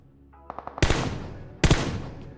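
Gunfire in PUBG Mobile during a solo versus squad fight on a military bridge: a quick run of light shots followed by two loud booming reports with long echoing tails.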